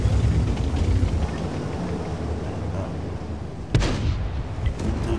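A tank cannon fires in the World of Tanks video game, with a dense, loud rumbling battle ambience throughout and a sharp boom near the end followed by a fading roar.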